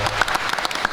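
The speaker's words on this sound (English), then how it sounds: "Let's give her a round of applause." At a community event at Bay City City Hall, an audience gives a brief round of applause, dense overlapping clapping that is loud and close for about a second.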